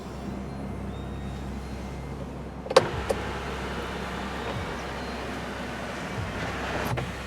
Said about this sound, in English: I really like the way the shade shuts.